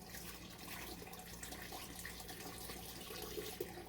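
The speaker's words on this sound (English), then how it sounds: "we're going to take our jar lifter and we're going to pour this water out of this jar." Water is poured out of a glass canning jar held with a jar lifter, a steady splashing and trickling flow that runs for several seconds at moderate, fairly quiet level, without talking.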